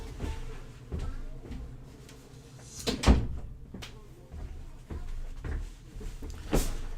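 An office door being shut indoors: a single solid thump near the middle, with lighter knocks and rustles before and after against a quiet room hum.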